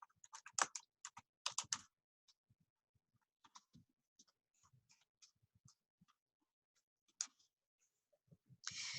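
Typing on a computer keyboard at a desk: sparse, faint key clicks tapped out in short clusters with quiet gaps between, closer clatters at the start and end.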